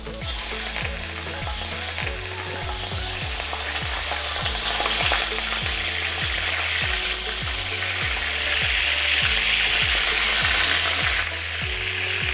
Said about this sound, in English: किन कार्निटासले पहिला हामी सते गर्छौं.